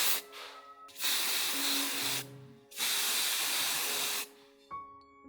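Protective coating sprayed from an aerosol can onto handheld cyberdeck parts, two long, steady hissing bursts close by, with a short faint puff at the end.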